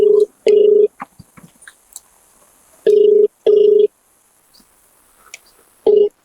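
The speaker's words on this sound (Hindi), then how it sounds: "तो ये तहसीलदार मैडम को फोन लग रहा है।" Phone ringback tone while calling a tehsildar, a local government official: paired rings sound clearly, pause, then repeat in a steady double-ring rhythm, with faint background noise between them.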